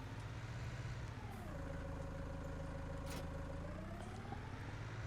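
A tractor engine idles steadily in Farming Simulator 19, a constant low rumble that dips briefly in pitch, with no voices over it.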